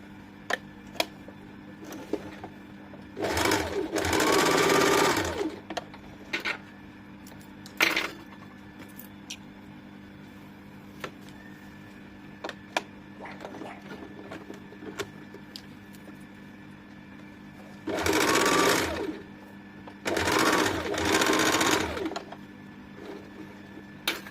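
A sewing machine stitches a loose palazzo, running in two pairs of short bursts separated by a long quiet stretch filled with faint clicks and handling sounds.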